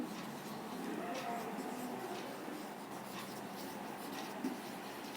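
A pen scratches across paper in short, soft strokes, faint and close in a quiet room.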